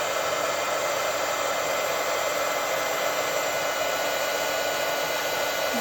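Heat tool melting embossing powder on kraft paper for a gift bag. It gives a loud, steady blowing hiss up close, like a hair dryer, that runs unbroken throughout without any voices.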